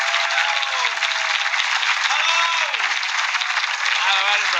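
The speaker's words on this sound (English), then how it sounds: "make some noise for Joe Wells" An audience at a live storytelling show at the Edinburgh Fringe bursts into loud sustained applause with cheers and whoops, a dense close crowd roar that holds steady throughout, with a voice heard faintly within it.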